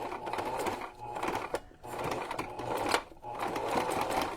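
A sewing machine stitches through a cardboard journal cover in fast, steady mechanical bursts with two short pauses between runs, close and moderately loud.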